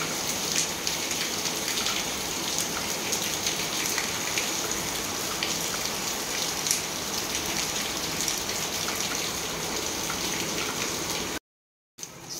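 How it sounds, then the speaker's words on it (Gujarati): Steady monsoon rain pours down continuously as a dense, even hiss of drops on surfaces, loud and close throughout, with a brief cut to silence near the end. "અહીંયા કન્ટિન્યુ અત્યારે વરસાદ ચાલુ છે"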